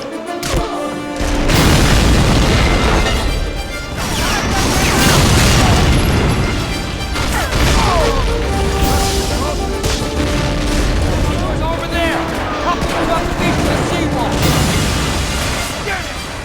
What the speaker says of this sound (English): storming the beaches among a hail of gunfire and artillery bombardment